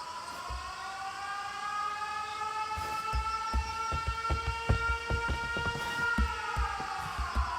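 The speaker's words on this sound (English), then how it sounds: "Air raid alarms have been sounded." A wailing air raid siren in the video game 13 Sentinels: Aegis Rim rises and falls steadily over a low rumble, with scattered thumps and clanks throughout.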